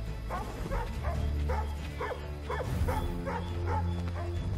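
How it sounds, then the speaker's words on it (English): A dog in the video game Assassin's Creed 3 barks repeatedly in a steady rhythm of sharp woofs over a low droning game ambience, fairly loud and close. "Dog is barking like a mother."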